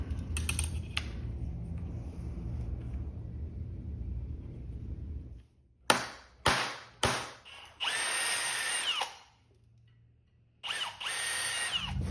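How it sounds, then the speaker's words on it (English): A power drill pre-drilling metal pieces whines in several short bursts, then two longer runs, with quiet pauses between them. "I'm going to go ahead and pre-drill them."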